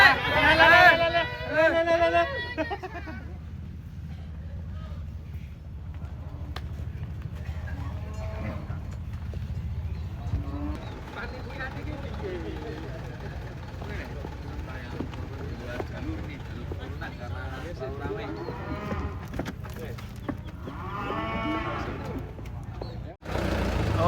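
Cattle being unloaded from a truck at an Indonesian cattle contest in Wonosobo, with shuffling hooves, thumps and crowd babble throughout, with people talking nearby and a few louder calls.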